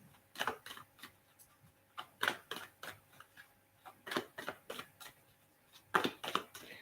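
Cards are shuffled close and quietly, with soft papery snaps coming in quick, irregular bursts.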